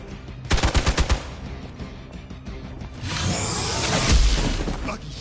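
Rapid bursts of gunfire from the video game Marvel's Midnight Suns, a quick string of loud shots early on, followed by a rushing whoosh and a low boom.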